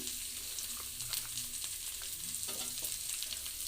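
A soft, steady sizzle of sliced onion sautéing in a pan, with occasional light stirring clinks; no voices.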